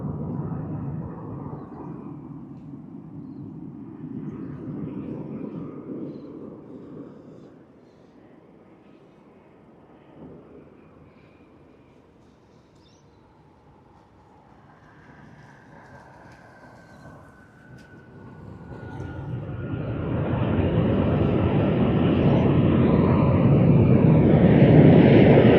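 An Airbus A380 airliner at Sydney Airport: a low engine rumble fades to a quiet lull, then a loud roar builds to a close, powerful sweep with a whining engine tone.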